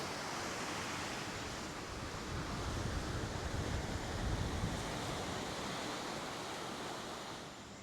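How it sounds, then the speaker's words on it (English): Steady wind rushes across the seaside at Cala Sant Vicenc, Mallorca, blending with the broad wash of surf in a continuous, fairly loud roar that swells slightly midway, with no voices. "there is a little wind"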